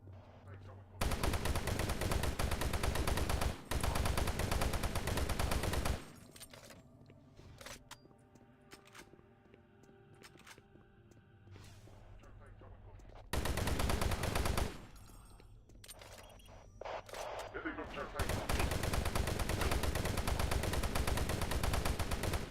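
An automatic weapon fires in a video game, with long loud sustained bursts broken by quieter stretches of game sound and small clicks, then heavy firing resumes near the end.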